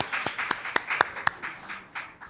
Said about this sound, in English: A round of applause for Mayor Harrell.